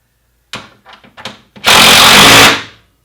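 A power tool tightens bolts on a Steadyrack bike rack mount: a few short stuttering bursts, then one sustained loud whirring run of about a second that cuts off, close up with no talk.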